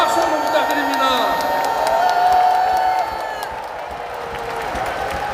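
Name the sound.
audience applause for fellow candidates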